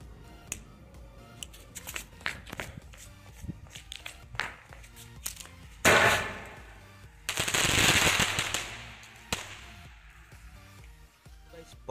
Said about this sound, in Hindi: चलिए गाइस अब जलाते हैं विनेगा ब्रांड के क्रैकलिंग शॉट ग्रीन को।